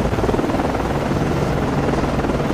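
Helicopter landing on a ship's deck in the naval game Cold Waters, a steady close rotor thrum and engine roar that holds evenly throughout with no voices.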